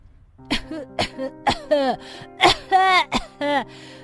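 A harsh coughing fit: about eight hacking coughs in quick succession, some with strained voiced wheezes, loud and close.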